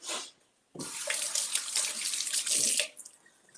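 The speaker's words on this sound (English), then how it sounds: "I'm just going to get some tap water here and put that next to the onion" Tap water runs from a kitchen faucet into a sink. It opens after a brief splash and a pause, then a loud, steady gush for about two seconds before it tapers off.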